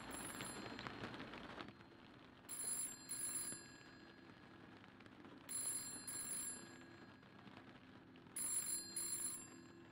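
A telephone rings in a horror video game, three double-pulsed rings spaced a few seconds apart and fairly loud over a steady background hiss like rain.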